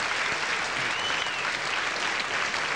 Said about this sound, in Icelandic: Ég vona gott klapp á hvetjumann.